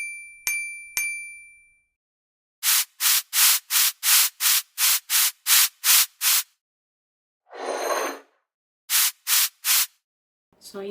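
Foundation base worked onto a face with an applicator, heard as a run of about ten short, even rubbing strokes, then a longer soft swish and a few more quick strokes, close up with no talking.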